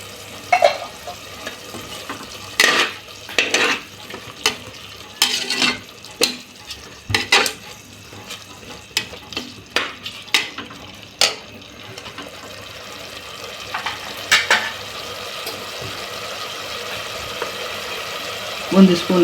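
Whole spices and garam masala fry in a pan for a quick biryani, with repeated scraping stir strokes and bursts of sizzle over a faint background hiss, and no talking.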